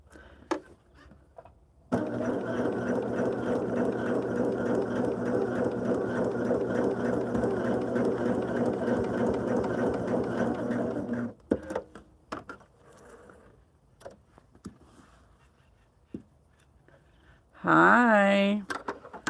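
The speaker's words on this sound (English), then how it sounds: "Turn it over and sew in the line." An electric sewing machine runs for about nine seconds in a steady, loud whirring stitch, followed by quieter handling clicks and rustles, then a brief fast burst of stitching near the end.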